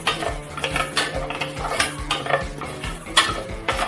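Mustard seeds dry-roasting in a hot pan for a sweet-and-spicy pickle, heard as close, rhythmic scraping and clinking of a utensil against the pan with faint crackles, no talking.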